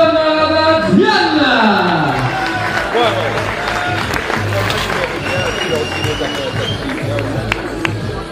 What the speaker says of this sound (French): On l'applaudit très très fort, le Nichois Issam Zian.